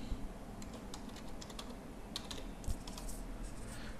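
Fingers tap on a computer keyboard in a quiet office, a faint, close run of soft, irregular keystrokes over a low steady hum, with no speech.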